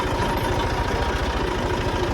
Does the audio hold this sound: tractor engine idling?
yes